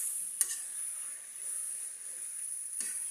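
Chicken frying in a pan, a steady close hiss of sizzling fat with two sharp clinks of a utensil against the pan.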